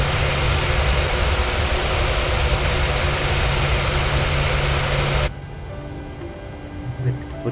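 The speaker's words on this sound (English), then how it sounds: "We have a good engine start." A PMDG Boeing 737-800 jet engine spooling up in a flight simulator, a loud steady broadband roar with a low hum that cuts off abruptly, leaving a quieter low rumble.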